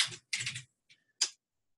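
A few faint, close keystrokes on a computer keyboard, two short clattering runs followed by a single isolated click, separated by silence.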